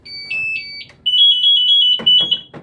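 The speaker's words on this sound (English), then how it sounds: "Pack alarm is going off. That's going into a ramp up mode." A Scott SCBA pack's PASS alarm sounds during fire department training, going from a steady high electronic tone into a fast string of rising chirps, loud and close, with a few dull knocks near the end.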